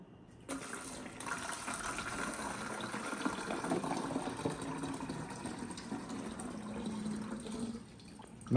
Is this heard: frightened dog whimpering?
no